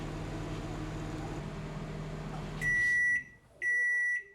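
A microwave oven signals that plant-based food has finished cooking: a low steady hum of the running oven stops, then two loud, sustained electronic beeps sound close by, separated by a short pause.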